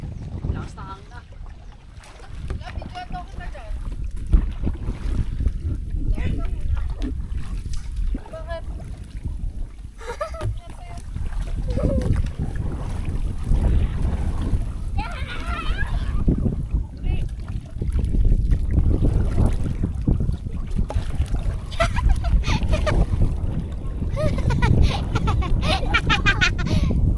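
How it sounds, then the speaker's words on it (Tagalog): Strong wind roars across open water alongside a boat, with low rumbling gusts and people talking over it throughout. "Lakas na hangin na."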